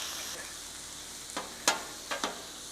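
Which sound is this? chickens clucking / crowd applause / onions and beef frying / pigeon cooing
onions and beef frying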